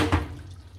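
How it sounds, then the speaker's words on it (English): Brief splash of boiling water poured into a pan of sauce, a short liquid gush at the start that quickly fades to quiet. "I'm just gonna add a little toast of boiling water"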